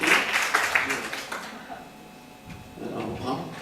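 Brief applause from a theatre-forum audience, broad clapping that swells at the start and fades after about a second and a half, with voices talking over and after it.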